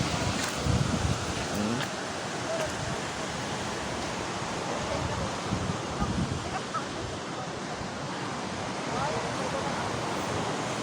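Steady roar of wind and surf at a shoreline, broad and continuous, with brief gusty bumps and no clear talk.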